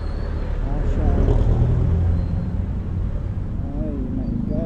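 Rush hour road traffic rumbles steadily from close by, a dense low roar of cars and engines that swells and eases slightly, with people talking over it.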